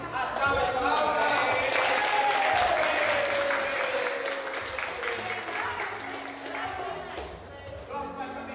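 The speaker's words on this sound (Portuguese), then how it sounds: "E agora, a salva de palmas." A church congregation at a Sunday school term-closing ceremony applauds the prize winners, broad clapping from many hands under a speaking voice, loud at first and then easing off.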